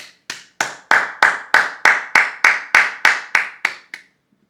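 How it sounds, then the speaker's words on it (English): A single person claps about a dozen times at an even pace, each crisp clap ringing out clearly and close, a round of applause honoring actress Toni Collette before a horror film. "we finna give her a round of applause"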